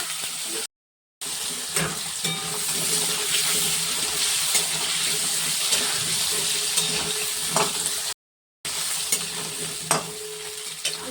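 Potatoes frying in hot oil with cumin seeds and bay leaves in a pan, a steady close sizzle with scraping and stirring running throughout, briefly cutting out twice.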